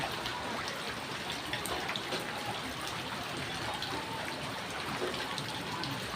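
Floodwater rushes during heavy, unrelenting rain, a soft continuous watery wash and trickle with no pause, fairly quiet and steady throughout.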